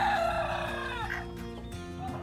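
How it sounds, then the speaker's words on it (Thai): A Thai fighting-cock rooster on a farm crows close to the microphone in a long descending call, followed by a few soft clucks amid faint background noise. "เดี๋ยวเราไปแวะชมไก่ชนกันสักหน่อยนะครับ มันโตแล้วครับ"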